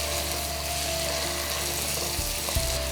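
Ingredients with curry leaves sautéing in a pan for spicy beef roast, a continuous close sizzle with brief stirring knocks near the end.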